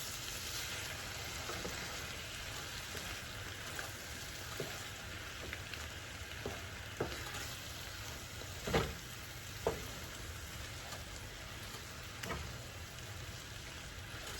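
Fried cabbage with shrimp, sausage and bacon being stirred in a hot pan with the heat just switched off: a steady soft sizzle broken by a few sharp scraping clinks of the utensil.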